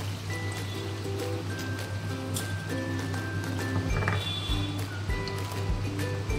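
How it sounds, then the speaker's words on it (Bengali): Hot water pours into a simmering paneer curry with saffron and milk, a continuous trickling splash close by, over a steady background hum. "আর একটু গরম জল দিয়ে দিলাম।"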